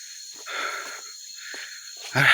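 A person breathes heavily while walking outdoors in the sun, with several breathy pants and wheezes coming in bursts, close and fairly loud, ending in a sharper exhale.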